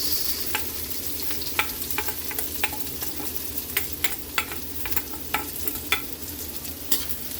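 Garlic and onion sauté in a pan, a steady sizzle running underneath while a utensil scrapes and taps at irregular intervals, close and clear, with no voices.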